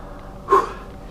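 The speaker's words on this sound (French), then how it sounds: "Je suis un peu essoufflé." A single sharp, heavy breath or gasp from someone out of breath while exploring a supposedly haunted tower at night, close and alone in a quiet space.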